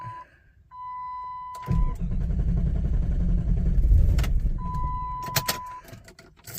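A 1998 Jeep Grand Cherokee 5.9 V8, starving for fuel, catches and runs roughly for a few seconds after a cranking attempt, a low rumbling engine note that rises and then dies away, with beeping chimes before and after.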